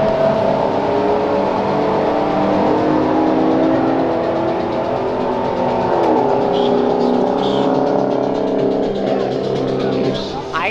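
Car accelerating hard in a street race, a loud rising engine roar throughout with a whirring pitch climbing as it pulls away, while people talk over it.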